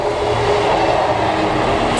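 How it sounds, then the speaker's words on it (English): A passing train gives a steady, loud rumble with rolling wheel noise, continuous and close throughout without speech. "just wait for the train to go past"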